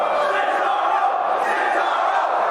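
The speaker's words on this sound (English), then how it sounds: "A little Cesaro chant from the crowd." Wrestling crowd at a House of Glory live show chanting for Cesaro during a Samoa Joe match, a dense, steady roar of many voices filling the hall without a break.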